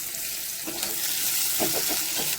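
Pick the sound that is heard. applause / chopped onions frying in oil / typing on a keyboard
chopped onions frying in oil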